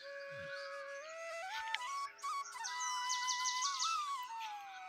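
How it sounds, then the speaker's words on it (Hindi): A titar (partridge) calling in a hill village at morning, a loud rising whistled call that climbs in steps and then breaks into rapid repeated notes, close and alone. "तितर का आवाज है।"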